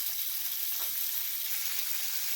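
Mackerel (bangude) fish frying in hot oil with masala, giving a steady, even sizzle that holds throughout with no voices.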